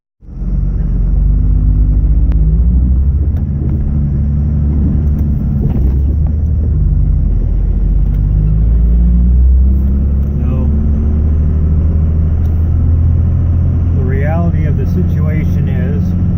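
A truck with big exhaust stacks driving, its engine a steady, loud low drone and rumble that runs continuously while someone talks over it.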